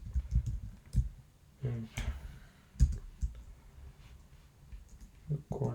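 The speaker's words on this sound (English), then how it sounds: "You are wondering why I'm typing this." Quick, uneven clicks of a computer keyboard being typed on while writing a Python program, clustered keystrokes and pauses, with a voice speaking faintly now and then.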